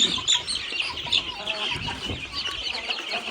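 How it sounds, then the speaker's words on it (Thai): Chickens cluck and chirp close by on a farm in a steady, busy chatter of overlapping calls, with no voices. "มีไก่ตัวนี้"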